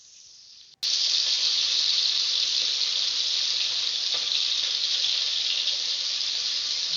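Fish hit hot oil in a kadai with a sudden loud burst, then a steady, intense frying hiss continues close up without pause and with no talking.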